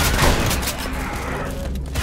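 Assault rifle gunfire in the video game City 17: Aftermath, a loud rapid burst of shots at the start that trails off into lingering rumble and echo.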